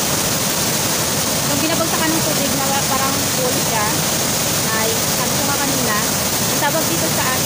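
A waterfall pours into a pool, making a loud, steady roar of falling water throughout, with speech faintly audible beneath it.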